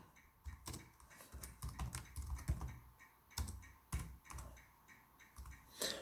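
Keys clatter on a computer keyboard while a fishing permit form is filled in online, quick uneven bursts of close, moderately quiet clicks with short pauses, no voices.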